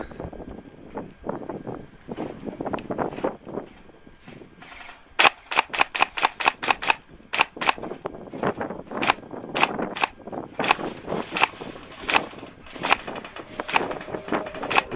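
An airsoft rifle fitted with a scope camera fires BBs outdoors on a windy day, sharp snappy shots arriving in quick bursts and single pops over wind rumble on the microphone.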